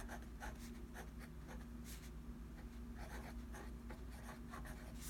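Faint pencil or pen scratching on notebook paper, a series of short strokes writing a title at the top of the page, quiet against a low electrical hum.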